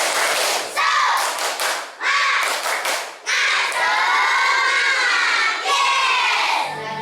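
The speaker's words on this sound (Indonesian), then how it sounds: "Tepuk semangat." A classroom of Indonesian schoolchildren performs a rhythmic spirit clap, sharp bursts of hand claps in patterned groups mixed with loud shouted chanting, energetic and close, filling the room.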